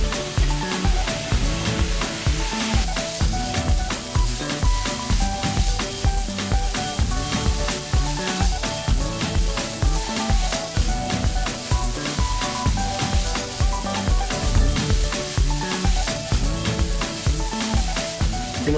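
Butternut squash frying in a hot pan after onions were sweated with thyme, giving a loud, steady sizzle with rhythmic stirring and scraping strokes throughout, close and continuous with no talking.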